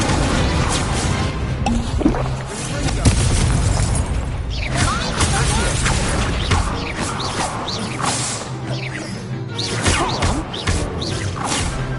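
The Incendio fire spell in Hogwarts Legacy is cast several times. Bursts of whooshing, crackling magical blasts and impacts come in quick succession over a busy, loud game soundscape.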